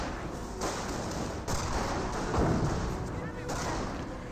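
Sustained rifle barrage from G43s in the game Company of Heroes, a dense, continuous rumble of overlapping shots and booms with a few louder surges, under a commentator's voice.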